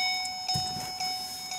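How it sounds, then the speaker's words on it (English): A key-in-ignition warning chime in a 2008-2012 Ford Escape sounds as a steady electronic tone, pulsing about twice a second in an even, clock-like rhythm, close and alone with no talking. "And it's only chiming because I have the keys in the ignition."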